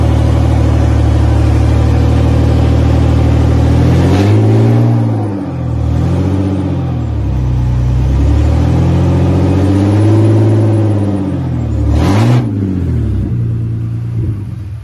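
A BMW M54 2.5-litre inline-six swapped into a Mazda MX5 runs loud and close, a steady low rumble with several blips where the revs rise and fall before settling back to idle.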